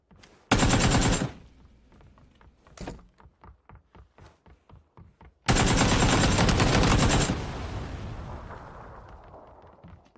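A gun in PUBG fires in loud bursts: a short rapid volley, then a string of single evenly spaced shots, then a long sustained automatic burst that trails off into echoing decay, with no speech.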